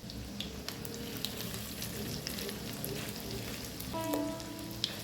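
Prawn vadas, hand-patted from fresh small prawns, fry in hot oil in a pan with a steady, dense sizzle throughout and a brief louder bubbling burst near the end.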